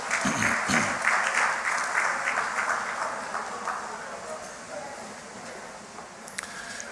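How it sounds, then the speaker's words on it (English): Sustained applause from a large conference audience, loud at first and gradually tapering off, with no talking over it. "So please give them a round of applause."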